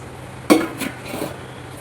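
A lid is set onto a pot of raw mango pickle mixed with turmeric and salt, giving one sharp close metallic clink followed by a couple of softer scraping knocks as it settles, with no talking.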